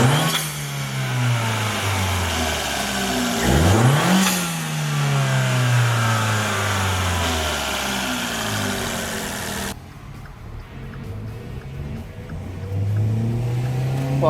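A Dodge Dart 1.4 Turbo with an aftermarket cold air intake pulls hard through several gears up close, each engine sweep climbing then dropping at the shifts, before a quieter cabin stretch and another rising pull.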